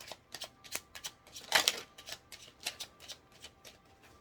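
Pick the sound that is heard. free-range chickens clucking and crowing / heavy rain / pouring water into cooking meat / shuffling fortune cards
shuffling fortune cards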